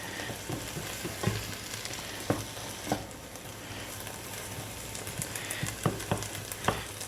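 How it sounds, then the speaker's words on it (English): Onion, tomatoes and other vegetables fry in a pan with a steady, dense sizzle, broken by occasional light clicks and scrapes of a spoon stirring, close-up and continuous, with no one talking. "And continue to stir it a little bit to bring all the flavors all together."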